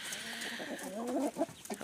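Older hens clucking and murmuring close by in a western Ukrainian village, a busy run of short warbling calls with a brief louder squawk near the end, no talking.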